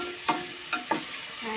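Jackfruit (langka) being stirred in a pot over a low sizzle, with three distinct scraping strokes of a spoon against the pot, close and fairly quiet.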